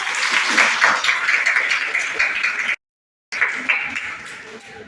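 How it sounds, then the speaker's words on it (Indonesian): A classroom of students claps hands in a dense, steady patter, breaking off into a brief silent gap before the clapping resumes, fairly close and loud. "Beri tepuk tangan."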